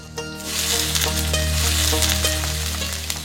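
Onions frying in hot oil for a beef and sweet pumpkin curry cooked in Moulvibazar, a loud dense sizzle with rhythmic stirring scrapes and a low steady hum beneath.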